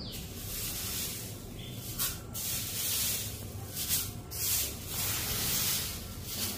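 Dried curry leaves rustle and crackle softly as they are handled, a faint dry scratching with a few brief louder crisp swells.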